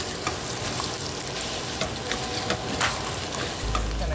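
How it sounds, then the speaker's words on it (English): Turkey bacon fries in bacon grease in a cast iron skillet, a busy, continuous sizzle and crackle close up, with small popping bursts and light scraping throughout. "You're just gonna put it in your bacon grease, chop it up until it is heated through the way you like it."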